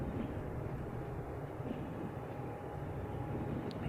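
A futuristic high-speed train in the Transport Fever game rushes along at about 199 mph, giving a steady, loud rumbling roar that stays constant throughout with no break.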